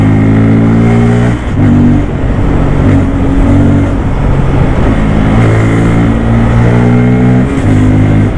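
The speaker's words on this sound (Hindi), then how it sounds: "चलो यहाँ पे बाइक को ना थोड़ा भगा के देखते हैं" A 2024 Bajaj Pulsar N250 motorcycle accelerates hard on Kolkata's longest flyover amid traffic. The engine roar climbs steadily and stays loud and close throughout, with two brief dips where the rider shifts gears.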